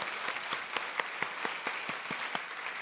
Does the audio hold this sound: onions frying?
no